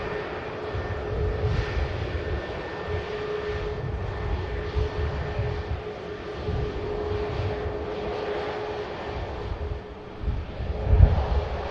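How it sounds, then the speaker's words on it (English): An Airbus jet airliner at Manchester Airport produces a steady, broad engine roar with a faint whine, moderately loud and continuous throughout, with some wind buffeting at the microphone. "Flying this very fresh"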